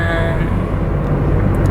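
Car driving with a window rolled down, a loud steady rumble of road and wind noise filling the cabin without a break.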